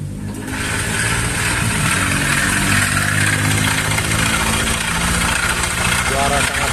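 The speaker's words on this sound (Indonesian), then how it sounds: "kita cek sound mesin jahat Vario 150" A Honda Vario 150 scooter engine idles loudly and unevenly close up, with a rough, rattling mechanical churn throughout.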